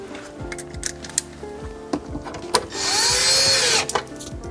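10 mm bolts going in on a Lexus LX subwoofer, with scattered ticks and clicks of bolts and tools, then a short whirring burst from a power driver, close up and fairly quiet.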